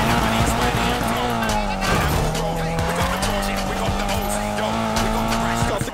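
Tires skid and squeal through a car chase in the video game Need for Speed Payback, a steady loud engine roar underneath with brief tire screeches, while people talk over the action.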